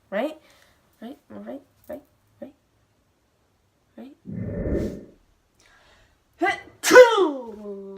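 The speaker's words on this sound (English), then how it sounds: "You do not need to sneeze extra loud." A person speaks a few short repeated phrases and takes an audible breath. One loud, explosive human sneeze follows near the end, close and forceful.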